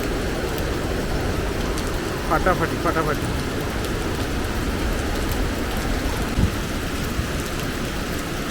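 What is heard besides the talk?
heavy downpour of rain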